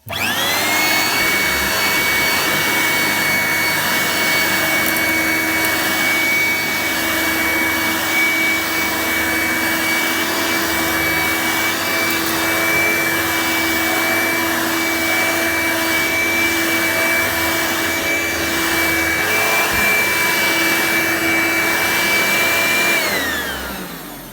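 A Hoover Turbomaster bagged upright vacuum cleaner spins up and runs with a loud, steady motor whine and brush drone for about twenty seconds, then winds down at the end.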